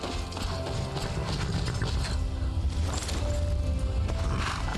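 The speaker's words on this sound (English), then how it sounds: "Here's my horse." A horse's hooves clip-clop in Skyrim, a steady close trotting rhythm over a constant dense game soundscape, with no voices.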